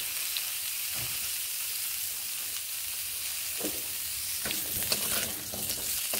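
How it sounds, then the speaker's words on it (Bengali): Drumstick (sajne danta) pieces frying in hot oil, a steady close sizzle with crackles and pops across the whole stretch, the faint scrape of stirring in places, and no voices. "সজনে ডাঁটাগুলোকেও এইভাবে আমি ভেজে নেব।"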